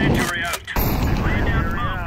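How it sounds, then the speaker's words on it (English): A flashbang grenade in a tactical shooter game bursts with a loud, close blast that fills the whole moment, cutting out briefly before the ringing roar returns. "Flashbang."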